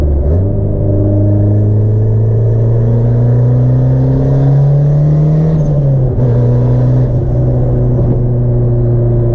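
Turbocharged Honda Civic driving with a raspy engine and exhaust: a loud, steady interior drone that rises in pitch as it accelerates, drops briefly at a shift, then pulls again.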